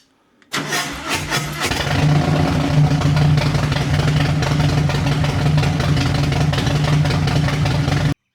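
A Harley motorcycle built by Captain's Performance in Coffs Harbour fires up with a short cranking burst, then settles into a loud, steady, close idle with a deep rhythmic lope.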